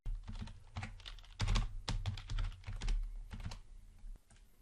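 A passphrase is typed on a computer keyboard in a quiet room, with a quick run of close, light key clicks over a low steady hum and no talk.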